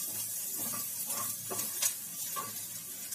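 Samosa filling dry-roasting in a pan without oil, a soft, steady sizzle and hiss broken by faint scrapes and stirs, close and quiet with no voices.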